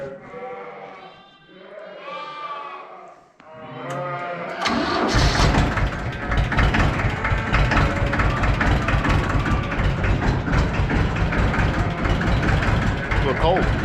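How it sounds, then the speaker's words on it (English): A farm tractor is started on a cold day and left idling to warm up, its engine settling into a steady, loud rumble after a few seconds of bleat-like vocal sounds. "So I'm gonna go fire the tractor up real quick. We'll let it warm up"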